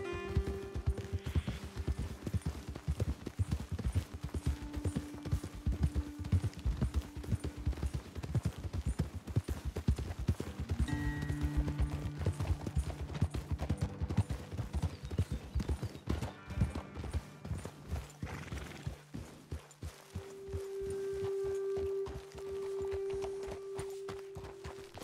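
Horses' hooves clip-clop steadily on a path in the video game Red Dead Redemption 2, several animals walking together in a dense rhythm with occasional whinnies and distant gunfire, fairly quiet overall with a low tone in the background.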